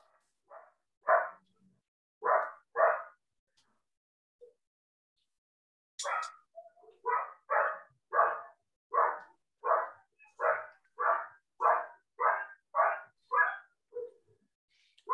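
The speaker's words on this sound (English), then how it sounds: "Somebody with a dog barking in the background." A dog barks somewhere in the background, a few isolated barks followed by a long, regular run of distinct single barks, fairly faint and set against otherwise quiet surroundings.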